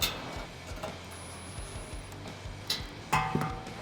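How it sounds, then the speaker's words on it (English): Ratchet driving a 7mm deep socket to tighten bolts on a Rugged Ridge HD stubby front bumper on a Jeep Wrangler JL gives quiet, quick ticking clicks, close by, with a few sharper metallic clinks near the end. "we can tighten them up with a 7mm socket."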